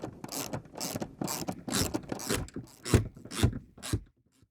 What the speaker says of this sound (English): then we can undo the bolt with a socket, specifically a 10mm